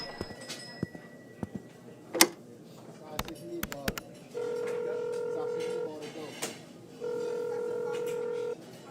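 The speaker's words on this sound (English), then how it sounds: "I used the payphone to call in an anonymous tip" A payphone's keypad is pressed in quick separate beeps, followed by two long steady tones, with small clicks and handling noises between them.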